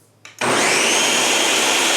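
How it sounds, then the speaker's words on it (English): A blender starts up and runs loudly and steadily, blending vegan pumpkin pie filling ingredients with cornstarch; a short click and brief whir come first, then a sustained, full motor roar takes over with no voices. "You're just going to put this on the blender and blend it up."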